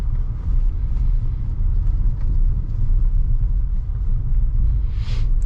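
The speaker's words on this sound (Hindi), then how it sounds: "तो अब मैं सेकंड गियर में चला रहा हूँ इसके पीछे पीछे" A car engine runs in second gear in city traffic, a steady low rumble and road drone heard from inside the cabin, loud and continuous, with a brief faint hiss near the end.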